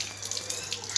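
Water runs from a tap pipe at a household hand-washing spot fed by a tank, a faint steady splashing hiss with a few soft drips.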